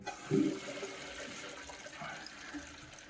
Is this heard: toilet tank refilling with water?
yes